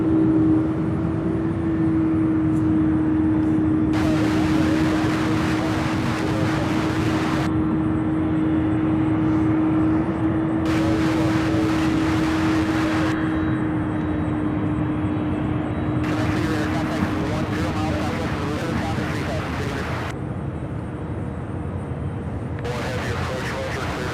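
A large airplane at Louisville International Airport runs its engines on the ground, a loud steady jet roar with a sustained whine, broken by long bursts of broadband rushing noise, while people chat throughout.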